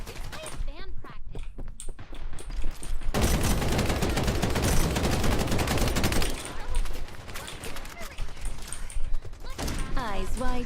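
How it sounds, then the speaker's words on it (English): Rapid automatic gunfire from a character's weapon in a video game, dense bursts of shots over several seconds amid game sounds, with voices talking before and after. "her gun basically has a lot of rapid like recoil"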